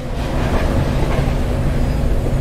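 A metro train runs along the line in the driving game Metro Sim Hustle, a loud, steady low rumble and rolling drone throughout with no voices.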